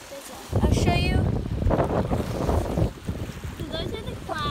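Strong wind buffets the microphone by the shore of Lake Manitoba under stormy clouds, a steady loud roar with gusts, and a person speaks briefly over it.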